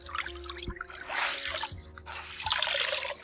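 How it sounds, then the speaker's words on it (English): Water squeezed by hand from a bed sheet being hand-washed, trickling and dripping in uneven splashy bursts with soft fabric handling, close and fairly quiet. "Squeeze the water out, wrap it around"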